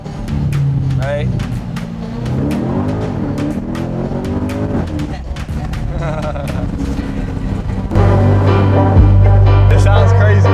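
Supercar engine rumbling close by under people talking and music, with a deep, loud rev surge building near the end.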